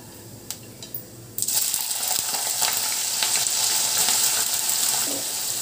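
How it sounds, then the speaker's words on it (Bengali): Cut potatoes tipped into hot oil with toasted panch phoron, a few light clicks and then a sudden loud burst of sizzling that settles into a steady close crackle, with no voices. "এখন দিয়ে দেব কেটে রাখা আলু।"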